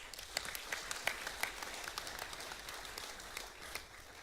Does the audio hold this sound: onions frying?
no